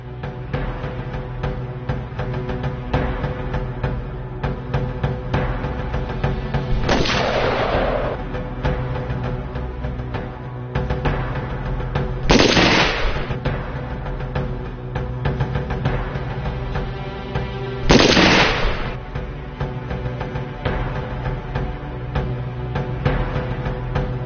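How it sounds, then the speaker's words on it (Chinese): Three sharp gunshots from a military marksmanship contest at a coastal fortress, spaced several seconds apart over a steady low background rumble, fairly close and loud. "顺利地打完了五枪"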